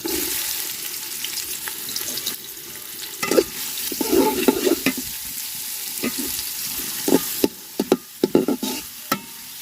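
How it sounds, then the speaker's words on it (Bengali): Chopped onion hits hot oil with cardamom, cinnamon and bay leaf, sizzling steadily while a spoon stirs with several clattering scrapes; no speech. "আর দিয়ে দেবো পেঁয়াজ কুচি"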